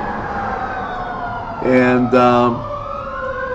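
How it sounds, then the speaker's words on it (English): Emergency vehicle sirens outside in Newcastle, two brief wailing bursts in the middle that sit over a steady hum of background tones, with a voice briefly heard. "we get the sirens outside, it gives a nice effect to everything that we do"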